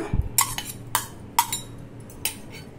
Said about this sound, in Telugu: కొంచెం కారం, ఇవన్నీ వేసుకున్న తర్వాత బాగా కలుపుకోవాలి